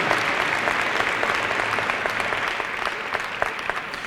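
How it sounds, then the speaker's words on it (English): An audience at Albany State University's 2017 honors convocation claps in sustained, even applause filling a large hall. "Give ourselves a hand of applause."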